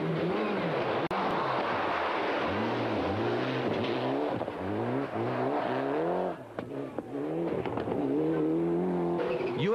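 A rally car at the Rallye Monte-Carlo spins out, engine revving in repeated rising and falling surges with tyre scrabble, then briefly dipping before picking up again, loud and close throughout.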